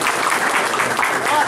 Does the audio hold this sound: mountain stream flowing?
no